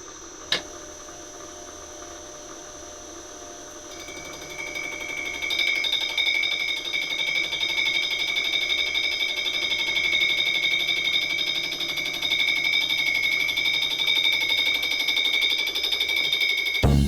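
An engine block is skimmed on a milling machine in a roughing pass at 0.2 mm depth and about 700 RPM, giving a steady, loud, high-pitched cutting whine with sharp tonal ringing that builds after a few seconds and runs on unbroken, with no talk.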